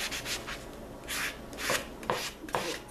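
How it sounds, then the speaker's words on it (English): 80-grit sandpaper rubbing along a wooden garden tool handle to smooth raised grain, with four or five quiet, close rasping strokes in an uneven rhythm. "This is an 80. And I'm going to take off some of these rough, where the rings have raised on here."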